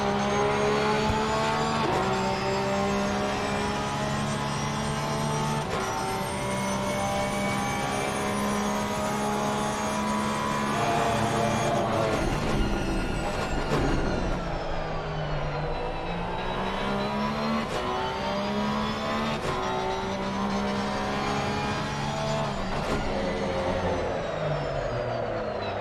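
A GT3 race car at Kyalami runs a lap, its engine loud and close, climbing through gears with repeated rising and falling pitch sweeps and a dip around a slower corner, with no talk.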